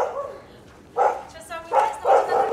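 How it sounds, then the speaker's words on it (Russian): A large Alabai, a Central Asian Shepherd dog, barks during a test of its reaction to a wolf, giving a few deep, loud barks in quick succession nearby. "Сейчас самое интересное, вот эта собака лает."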